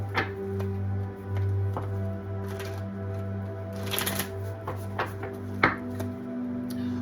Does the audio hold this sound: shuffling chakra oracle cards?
yes